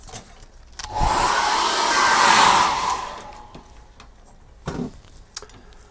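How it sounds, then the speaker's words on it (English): A hairdryer blows on acrylic paint for about two seconds, a steady close whoosh that swells and fades, followed by faint taps and knocks in a quiet room. "get the hairdryer on that"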